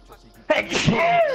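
A single sharp sneeze bursts out over voice chat during Fortnite gameplay, and a voice speaks right after it.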